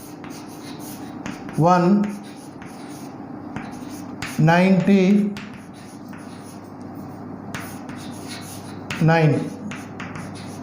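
Chalk or marker scratching numbers onto a board in three separate bursts of quick squeaky strokes, close and clear, with a teacher's voice speaking between them.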